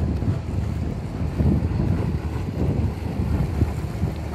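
A Kometa hydrofoil boat travelling at sea to Kavala gives a steady, loud engine and water rush with heavy wind buffeting the microphone, continuous throughout with no pauses.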